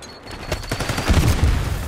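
Gunfire in the shooter game Babylon beta: a rapid burst of automatic shots building into dense, punchy fire with low booms, loud and close, no talk.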